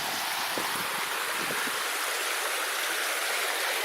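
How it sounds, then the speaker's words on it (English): Creek running over solid granite-like rock in Desolation Wilderness, a broad steady rushing wash close by, with some low gurgles early on. "This creek cuts through all this rock"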